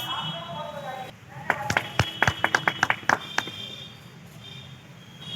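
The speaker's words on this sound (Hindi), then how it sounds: "ताली से स्वागत होना चाहिए, ताली बजती रहे अध्यक्ष जी के लिए।" A small audience at a divisional meeting in Moradabad claps to welcome the president, a brief scattered run of roughly a dozen separate, uneven handclaps from only a few people, with speaking before and after.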